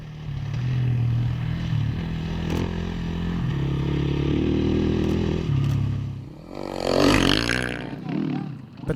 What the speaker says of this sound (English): only 6 seconds behind Sosa Sr. on her Husqvarna bike.